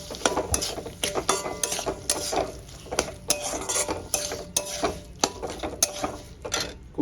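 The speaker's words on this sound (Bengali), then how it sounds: "খুব ভালো করে কষিয়ে নেব। ডালটা দিয়ে আমি কষিয়ে নেবো।" Moong dal is stirred with spices in a pan, a spatula scraping and knocking against the metal in a steady, irregular rhythm, close and clear, with no talk.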